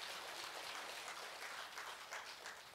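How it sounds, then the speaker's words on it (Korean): A church congregation at a healing service claps steadily for the whole stretch. The broadband applause is dense and even, heard at a distance and faint. "하나님께 영광의 박수를."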